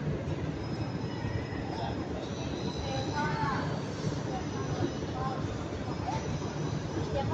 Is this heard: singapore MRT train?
yes